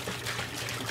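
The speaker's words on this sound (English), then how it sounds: "Large pot here, we are gonna add 1 gallon of white vinegar." A gallon of white vinegar pours into a large pot, a steady close splashing trickle with no pause. No one speaks.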